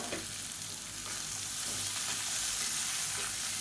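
Bottle gourd with curry leaves sautés in a pan, giving a continuous soft hiss of frying with faint stirring underneath, quiet and steady throughout.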